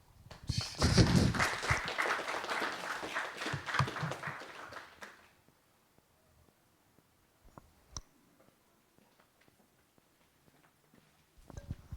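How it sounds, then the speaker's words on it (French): Small audience applauding at a talk about smartphones and F-Droid, a dense burst of claps for about five seconds that quickly dies away, leaving near silence with a few scattered clicks. "On peut applaudir aussi avant."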